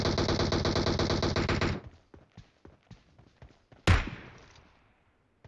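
Automatic gunfire in the mobile game PUBG Mobile: a rapid, loud burst of shots for about two seconds, then a string of faint scattered pops and one sharp, heavy shot with a fading tail.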